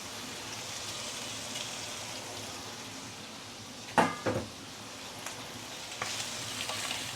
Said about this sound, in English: Let's saute this for a minute or two before we continue.